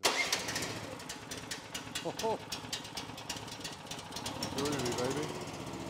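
An Opico skid steer with a newly installed engine cranks and catches, settling into a rough, rapid knocking run, with a voice briefly speaking over it.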